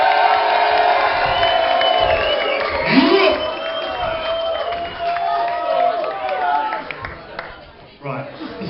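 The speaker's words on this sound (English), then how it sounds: "I just want a massive cheer for them both" Wedding guests break into loud, sustained cheering for the newly married bride and groom, with whoops and shouted voices over scattered clapping in a full reception room.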